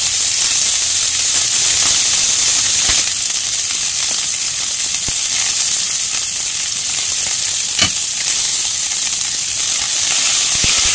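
Loud, steady sizzling of pork searing in a hot frying pan, a constant crackling hiss with occasional sharper pops and no voices.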